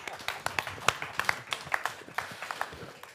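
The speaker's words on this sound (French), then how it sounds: "Vous pouvez l'applaudir." A small crowd gives a brief round of applause for a finalist at a regional burger cooking contest final, steady scattered handclaps lasting a few seconds, close and moderately loud.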